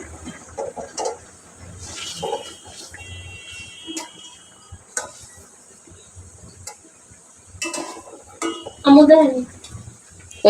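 A spoon scrapes and clinks against a pot while fish curry with shrimp is stirred and cooked down, sporadic soft metallic taps and scrapes with a louder clatter near the end, a faint steady hiss underneath and quiet talk at times.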